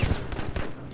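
A rapid burst of gunfire in Battlefield V crackles through a short moment, several sharp shots in quick succession with a dense, game-like texture and no talking.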